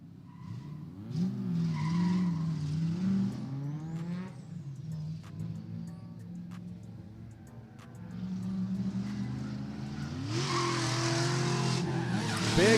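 A red Mustang and a magenta turbo rotary RX-7 drift in tandem, engines roaring and rising in pitch, with tires squealing loudly near the end.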